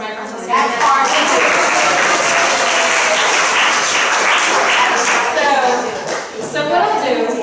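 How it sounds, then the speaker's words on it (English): An audience at a live history talk applauds in a steady, dense wash of clapping that runs for several seconds before thinning out, with some voices mixed in. "Give a round of applause for my friend."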